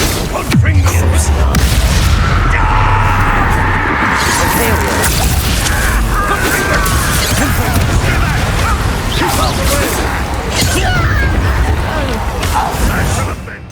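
A Confringo fire spell explodes during a village battle in the Hogwarts Legacy video game, with booming blasts and thuds layered under a dense, continuous roar of game combat and shouted voices.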